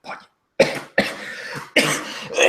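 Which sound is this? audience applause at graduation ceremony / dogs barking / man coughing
man coughing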